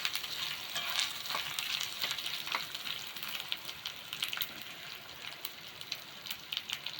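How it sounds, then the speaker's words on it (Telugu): Ginger and garlic frying in hot oil for a vegetable kichidi, a steady close-up sizzle with fine crackling pops and no voices. "అల్లం వెల్లుల్లి కొంచెం వేగిందంటే చాలు."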